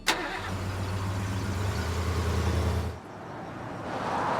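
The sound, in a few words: car engine starting and driving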